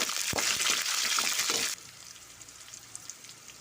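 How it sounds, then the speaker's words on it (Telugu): Halved green chillies spit in hot oil with a loud, crackling sizzle and a few sharp pops, then the frying suddenly drops to a quiet, low bubbling after about two seconds. "ఇవి బాగా నూనె వేగనివ్వాలి."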